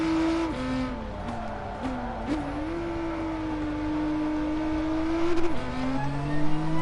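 Nissan GT-R race car in the GT Sport video game, a steady engine drone that rises and dips with gear shifts, closing with a few sharper bursts near the end, with no talk over it.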